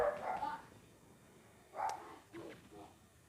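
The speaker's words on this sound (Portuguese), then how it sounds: "cachorro, faz me desconcentrar." A dog barks indoors in a few short, fairly faint yaps spread over a few seconds, heard near a person playing a video game.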